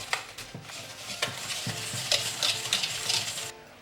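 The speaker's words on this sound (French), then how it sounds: "Dans un saladier, on verse le sucre et le beurre et on va venir fouetter le tout." A whisk works sugar and butter together in a mixing bowl for a frangipane galette des rois, quick scraping and tapping strokes against the bowl at an irregular rhythm, close and alone.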